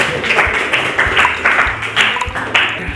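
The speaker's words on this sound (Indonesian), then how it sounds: "tepuk tangan untuk kedua narasumber" A classroom of students claps for two guest speakers, a loud, fairly steady patter of hands with rhythmic bursts, close and indoors, with no talk over it.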